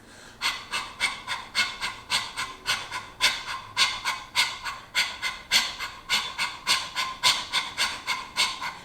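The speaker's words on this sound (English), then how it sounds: "The breath is a panting breath of fire in and out of the mouth." Rapid, forceful panting in and out through the mouth during a breath of fire yoga exercise, about two sharp breaths per second, close and rhythmic, continuing steadily throughout.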